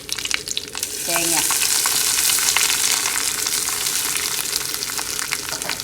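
Grated coconut sizzles and crackles in a hot pan while being stirred for a Kerala erisherry, with continuous close frying noise and scraping strokes of a spoon.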